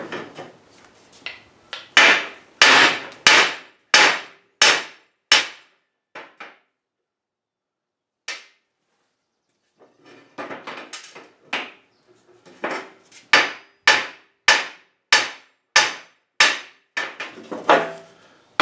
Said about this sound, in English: So we have to use the hammer and vise method.